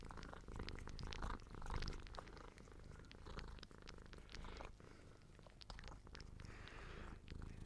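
A cat purrs steadily and close for several seconds, a continuous low rumbling with faint breathy pulses and no voices over it.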